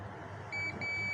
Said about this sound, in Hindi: तो एक तो आपका यहाँ से बीप साउंड देगा